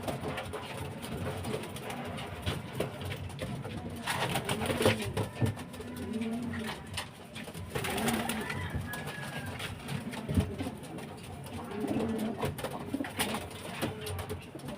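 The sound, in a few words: pigeons cooing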